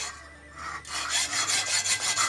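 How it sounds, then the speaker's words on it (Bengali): A metal bolt is being cut with a fast, steady rasping rhythm of sawing strokes that starts after a brief pause, close by and moderately loud. "বল্টু কাটছিস কেন?"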